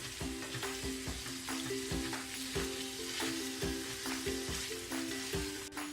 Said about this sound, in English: And cook the meat until it's brown